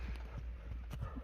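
A horse, a Kyrgyz bald-faced kok-boru horse, running with quick rhythmic hoof clip-clops, several beats in close succession over a dull background.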